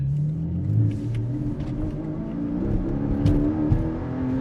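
A Porsche 718 Cayman GTS pulls away at modest speed, its engine rising in a smooth, moderate acceleration heard from inside the car, with no talking.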